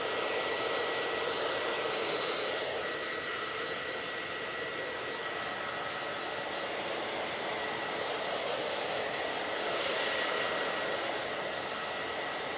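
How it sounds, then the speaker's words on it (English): A salon blow dryer runs steadily and loudly close by as it dries a short haircut, a continuous airy roar that swells briefly near the end. "I apologize for hearing the blow dryer"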